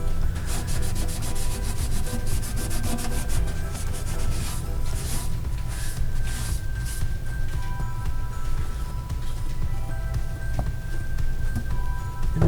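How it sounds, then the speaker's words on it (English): A scrubber sponge scrubs a surface during a faucet replacement, a steady, close rasping rub in quick repeated strokes lasting throughout, with no talking. "So I use this and then a scrubber sponge"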